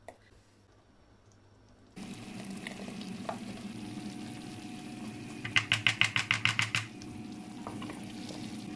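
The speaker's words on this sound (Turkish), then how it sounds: "Ara sıra karıştırmak gerekiyor, yoksa dibi tutabilir." Boiling cornelian cherry marmalade in a pot being stirred, a soft steady bubbling hiss that starts up suddenly, followed by a quick run of about eight rhythmic clicking knocks from the spoon.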